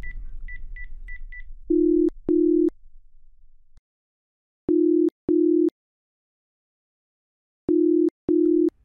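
A short dialing beep sequence, then a phone ringback tone repeating in steady paired bursts with silent gaps, ringing on with no answer.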